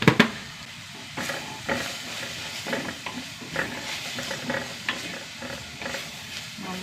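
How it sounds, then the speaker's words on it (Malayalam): Chili and coriander powders are stirred in a frying pan with steady sizzling and a series of rhythmic scraping, clattering strokes close up, and no voices. "നന്നായി പൊടികളിട്ടിട്ട് ഒന്ന് ഇളക്കി കൊടുക്കാം."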